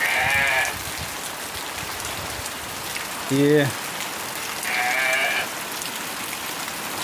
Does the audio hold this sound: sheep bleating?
yes